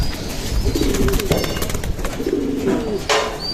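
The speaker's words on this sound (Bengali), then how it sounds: "কিছু রেসার কবুতর সংগ্রহ করি" Racing pigeons cooing nearby, several low throaty coos repeating in short bursts over a steady background hum.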